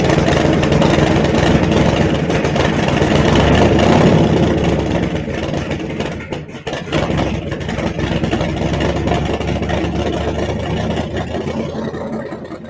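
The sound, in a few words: car engine with two carburetors idling and revving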